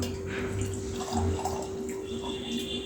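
Milk is poured into a container to set curd, a soft steady liquid trickle and splash under a constant low electrical hum, close and fairly quiet throughout.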